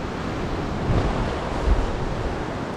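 Sea waves washing in at a quiet beach in Bali, heard as a steady, close, loud wash of surf mixed with wind rumble on the microphone, with no talk.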